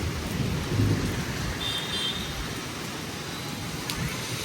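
Heavy rain falls steadily over Bhavnagar city during a thunderstorm, a dense, continuous wash of close rain noise with faint rumbles beneath.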